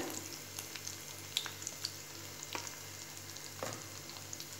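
Chili powder hits hot oil in a Marathi-style tempering for dal methi with crushed garlic, giving a steady soft sizzle with scattered faint crackles and pops over a low background hum.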